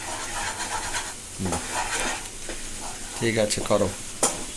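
Food sizzles steadily as it fries in a pan, a soft continuous hiss with occasional stirring scrapes, while people talk quietly over it.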